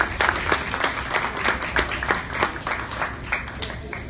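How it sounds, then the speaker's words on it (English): A concert crowd claps for the band at a small music venue, individual claps distinct in a moderately dense, steady round that fades slightly toward the end. "let's give a round of applause for the band"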